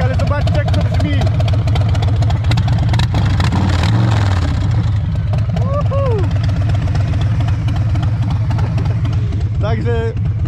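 A Harley-Davidson Road Glide Limited with a 107 engine idles loud and close, a deep uneven lumpy rumble with steady throb and a couple of brief revs, while a voice speaks over it.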